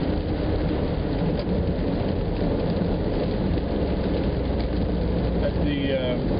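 Heavy rain drums steadily on a taxi while driving through town, a dense loud wash of rain and road noise with a brief squeak near the end.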